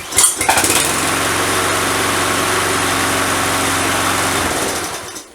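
A Texas TA 03466 petrol lawn mower engine starts with a few rough bursts, then runs at a loud, steady, buzzing idle for several seconds before cutting out, with no voices.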